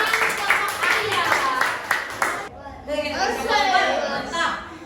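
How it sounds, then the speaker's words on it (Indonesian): A classroom group of students claps for a presenting group, a short burst of applause followed by children chattering and talking nearby. "berikan tepuk tangan untuk kelompok ayah"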